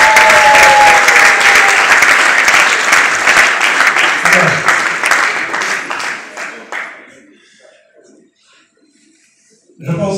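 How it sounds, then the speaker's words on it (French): An awards-ceremony audience applauds the artist Da Costa with loud, dense clapping and voices mixed in, tapering off into near silence before a short burst of sound returns at the end. "Est-ce qu'on peut l'encourager comme il faut l'applaudir?"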